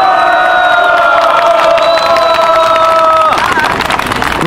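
A large crowd at a street rally of lawyers at Bosingak in Seoul cheers and shouts loudly, a dense continuous roar with whoops and some clapping.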